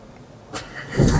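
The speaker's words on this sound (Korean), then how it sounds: "엔진 스타트 버튼 누르면" A car engine cranks and fires up after a push-start button is pressed, a brief click then a quick rising start into a low idle, close and moderately loud.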